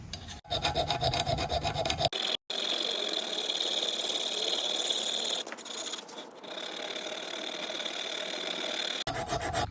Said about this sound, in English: This file's kind of half rounded. It's like a flattened football shape.